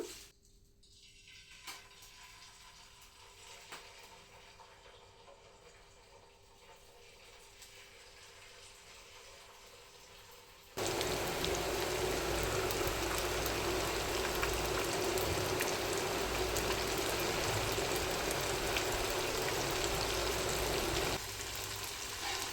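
Sweet dough pieces dropped into hot oil, a steady bright frying hiss that starts abruptly midway and stays loud and even, following a quieter stretch of low kitchen noise.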